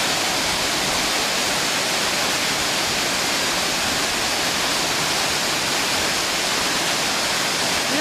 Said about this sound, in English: I'm at the Nelson Falls. What amazing falls these are.